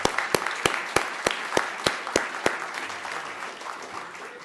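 A lecture audience applauds, opening with several sharp, evenly spaced claps close to the microphone over a broad wash of crowd clapping that gradually fades.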